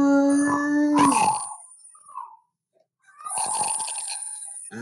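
Several people howl together in imitation of dogs, a long rising group howl that breaks off, a short pause, then a second loud chorus of howls.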